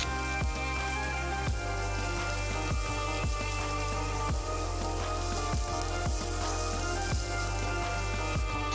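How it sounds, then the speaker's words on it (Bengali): About a cup of chopped onion frying in oil, a dense steady sizzle heard up close, broken by regular soft clicks and crackles, with no voices. "পেঁয়াজগুলো আমি এভাবে 1 মিনিট ভেজে নিব।"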